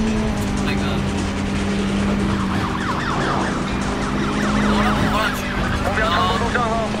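Police car sirens wail in the Need for Speed World racing game, rising and falling in two clear sweeps over a constant engine drone, with players talking over the chase.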